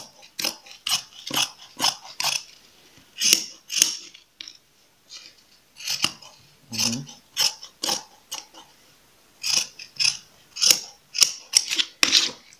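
Scissors snipping material into a shoe sole shape, a series of crisp close cuts in irregular bursts with short pauses between, no talking.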